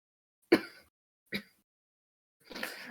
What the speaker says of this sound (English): I'm gonna cough now